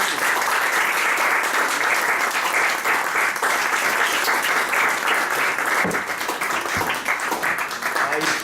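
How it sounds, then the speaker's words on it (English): A comedy club crowd gives a long, loud round of applause for a performer, dense continuous clapping that runs throughout, then eases slightly near the end as a voice breaks in. "can we have a big round of applause for Jerwood?"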